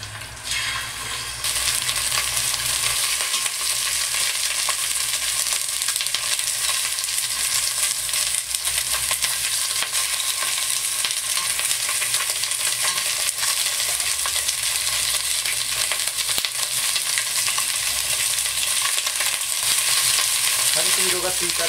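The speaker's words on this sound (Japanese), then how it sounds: "手羽先を入れて炒めます。" Chicken wings frying in a pan while being stirred, a steady loud sizzle with scraping and stirring noises running throughout.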